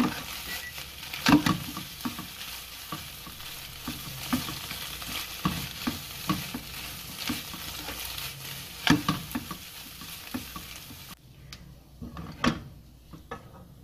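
Eggs cooking in a frying pan, a continuous soft sizzle with scattered clinks and knocks of handling, the hiss cutting off near the end and leaving a few quiet taps.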